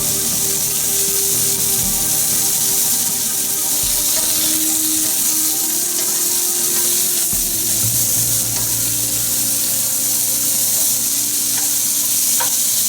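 Baby corn and mushrooms stir-frying in a pan, a loud continuous sizzle close by with occasional scrapes and stirring knocks, no voices.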